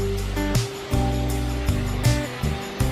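Rushing water from a waterfall in Taiwan roars steadily nearby, with a few brief low thumps or bumps breaking through the continuous wash.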